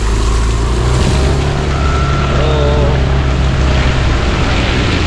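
2024 Yamaha NMAX 155 scooter ploughing through a flooded road in the rain, a loud continuous rush of splashing water and wind over a low engine hum.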